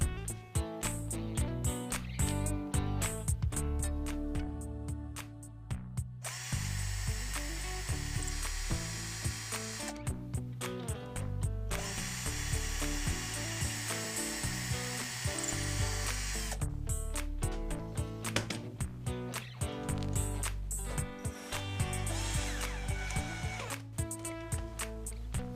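A power driver spins screws into a window sash to fix a window lock in place. It sounds as close, loud whirring bursts with brief pauses between, including two long sustained runs as the screws bite and drive home.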